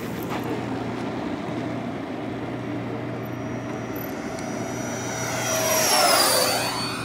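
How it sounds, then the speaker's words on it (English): A Freewing 90mm F-4 Phantom II RC jet makes a high-speed pass over a runway. A steady whine from its single ducted fan builds and then sweeps downward in pitch as it rushes past. "high speed pass from the left over the runway"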